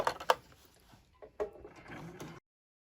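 A home sewing machine at regular stitch length runs slowly around a folded jeans hem, keeping the original hem; soft mechanical whirring and clicking lasts about two seconds between a few faint knocks, then stops.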